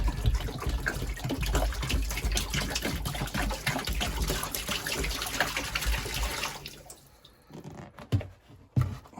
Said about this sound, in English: We're gonna go ahead and pour in about a gallon of water into this shower pan.